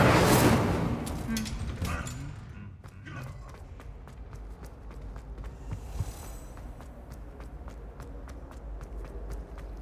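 An Incendio fire spell is cast in Hogwarts Legacy: a loud whooshing burst opens, then fades into quieter scattered taps and light footfall-like clicks.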